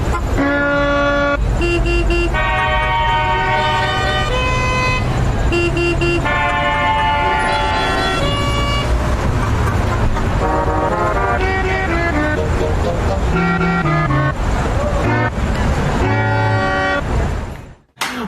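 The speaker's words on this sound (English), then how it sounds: "that was some car horn Beethoven that I made with this super sweet HP Pavilion X360" Car horns, tuned like truck air horns, play a Beethoven melody arranged on an HP Pavilion x360 laptop, with loud, sustained honking notes in steady musical phrases and layered chords throughout, ending abruptly.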